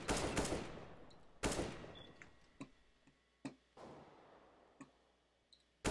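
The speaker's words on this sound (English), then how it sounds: "you just shoot it. Then it makes a gunshot." Gunshots in the CS:GO video game come as several sharp, sudden cracks spread unevenly, the first few louder with short echoing tails and the later ones quieter, fainter clicks.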